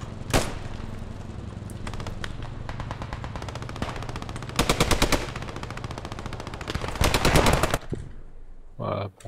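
M1 rifle gunfire in the World War II shooter game Post Scriptum on the Carentan map, with dense bursts of rapid shots, some loud and near and others more distant, in a continuous exchange of fire.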